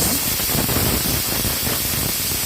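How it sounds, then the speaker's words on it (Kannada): Pressure cooker cooking split mung beans lets off a loud, steady steam hiss, a continuous broadband rush filling the whole clip with no talk. "ಸೊ ಎರಡು ಸಲ ವಿಷಲ್ ಕೂಗಿಸ್ತೀನಿ"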